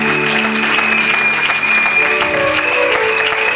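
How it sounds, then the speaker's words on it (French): A church congregation applauds in one continuous burst of dense clapping, loud and close, with faint voices mixed into the crowd. "Acclamez pour le nom de Jésus."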